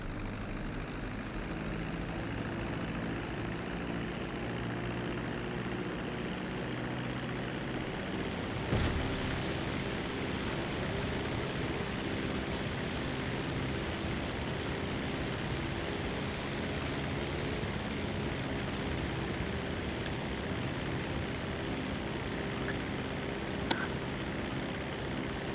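A seaplane engine drones steadily for the whole stretch in GTA Online while flying at top speed, a dense even roar with a faint bump partway and a tiny click near the end, no speech.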